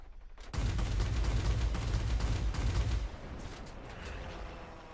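Rapid twin cannon fire from a German Messerschmitt Bf.109Z Zwilling in World of Warplanes, a dense rattling burst that kicks in abruptly, roars for a few seconds, then drops to a quieter continuing rumble.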